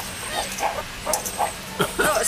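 Meerkats give short, dog-like yipping barks, several quick high calls in irregular bursts, close by, with faint background noise.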